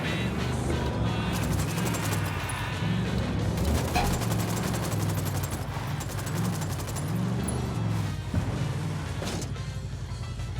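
Gunfire in the video game Ghost Recon rattles in dense rapid bursts, with sharp cracks and a low droning rumble underneath, loud and continuous with no talking.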